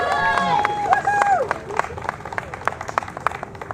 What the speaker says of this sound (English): give us a round of applause for the Mother Pluckers for their playing today